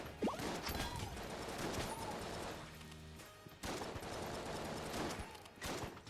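Dense bursts of gunfire in Enter the Gungeon during a fight with two enemies, a rapid, continuous spray of shots that briefly dips and then resumes at full intensity.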